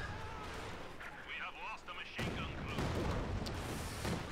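Distant rattling gunfire and booming artillery from a Company of Heroes 2 match, with Volksgrenadiers under fire from conscripts, running under a commentator's talk and getting a louder burst in the second half.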